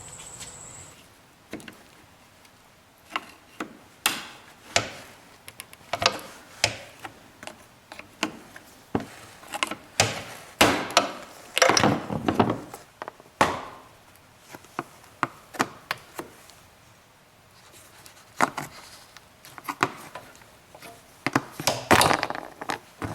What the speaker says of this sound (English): These little tabs right here, and you just flip this up with the screwdriver